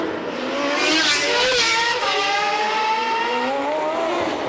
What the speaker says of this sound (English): There is Nigel Mansell in the Ferrari. He's managing to keep it going.